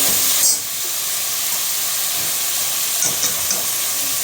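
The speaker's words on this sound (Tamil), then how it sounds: "எண்ணெய் பிரிஞ்சோடனே இந்த மாதிரி தக்காளியை போட்டோம்." Six tomatoes drop into hot oil for tomato biryani, setting off a loud, steady sizzle and hiss that continues evenly, with a brief stir or scrape partway through.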